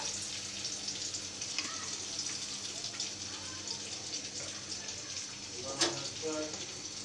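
Oil is poured into a hot pan to fry spices for a koi fish and potato curry, giving a continuous soft hiss and sizzle, with a brief sharp clatter near the end.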